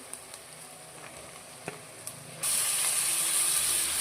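Tomatoes hit a hot pan while cooking a bitter gourd dish, a few quiet clicks and scrapes giving way to a sudden loud, steady sizzle as they are stirred in.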